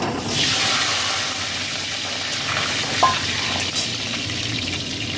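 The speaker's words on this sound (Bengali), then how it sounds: "সেই বেরেস্তা ভাজার তেলেতেই আমি আলুগুলো ভেজে নেবো।" Half-boiled potatoes fry steadily in hot oil left over from frying onions, giving a loud, continuous sizzle with a few small pops and stirring sounds.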